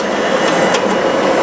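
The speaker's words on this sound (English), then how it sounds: "So the printer performs one of the test pattern for the printer operator to be able to see" A Mimaki JV100 wide-format printer prints a nozzle check test pattern, giving a loud, steady mechanical whir and hum with faint shifts from the moving carriage and no voices.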